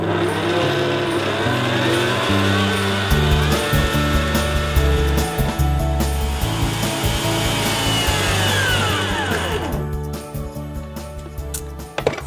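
An electric food mixer whisks a gluten-free roulade mixture of eggs and sugar until pale and fluffy, a steady loud mechanical whir with a rattling beater rhythm that runs unbroken for about ten seconds, then slows and winds down near the end.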